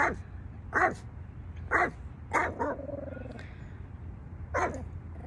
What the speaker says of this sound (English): I don't know if I can talk with this dog barking over me